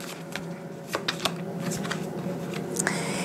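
A tarot card drawn from a deck: brief papery slides and snaps of cards being handled, close and crisp, a few distinct flicks over a quiet room.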